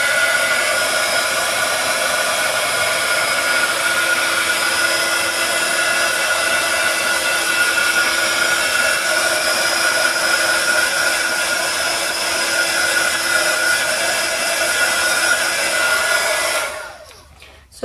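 A heat gun blows steadily to dry a mixed media card, a loud continuous whirring roar that holds level for most of the time, then cuts off and winds down at the end.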